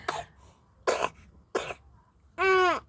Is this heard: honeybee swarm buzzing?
no